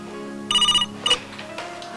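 A telephone rings with two short electronic trilling bursts, fairly close and clear over a faint background hum.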